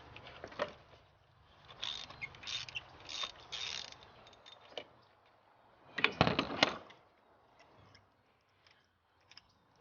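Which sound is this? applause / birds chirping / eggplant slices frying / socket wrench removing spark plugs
socket wrench removing spark plugs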